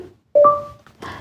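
A short two-tone electronic activation chime from a Google Home Mini smart speaker rings out clearly, followed by a brief soft blip and a quieter tone, in a quiet room.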